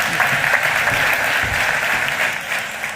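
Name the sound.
audience applause for Ronald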